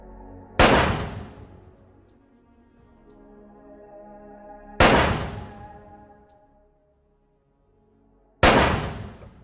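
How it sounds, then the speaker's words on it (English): Three loud, sharp gunshots crack out one by one several seconds apart, each ringing briefly before fading, with a faint background hum between them. "That sounds like a gunshot."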